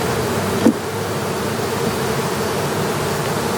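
Honey bees humming in a mass while being shaken into a queen-rearing cell starter box, a steady dense buzz with a brief bump early on.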